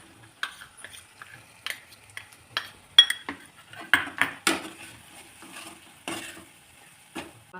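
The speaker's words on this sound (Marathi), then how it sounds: "मसाला तेल सुटेपर्यंत भाजून घेऊया" Masala of red chilli powder and onion roasting in oil in a pan while being stirred, with repeated spoon clinks and scrapes against the metal over a soft sizzle, close and moderately loud, no talking.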